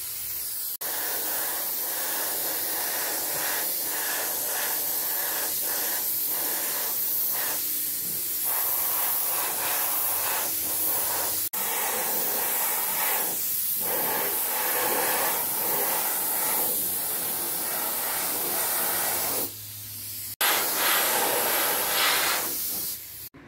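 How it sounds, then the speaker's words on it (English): Steady, loud hissing of a spray gun at low pressure applying primer to Harley-Davidson motorcycle panels, running almost continuously, with a few brief pauses before the spraying resumes. "You want to spray this at a really low pressure, and always test spray off your panel first."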